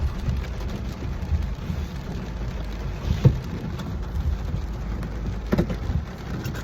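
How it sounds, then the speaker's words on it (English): Steady rain patters throughout, with a couple of louder drips or knocks standing out briefly; no voices. "even though it's raining out, I'm gonna step out and show you the water."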